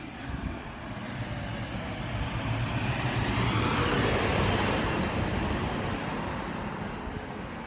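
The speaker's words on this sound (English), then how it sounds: "That was the sound of a loud diesel truck engine." A loud diesel truck passes by outdoors. A low engine rumble with road hiss swells to a peak midway, then slowly fades as it moves off. No talking.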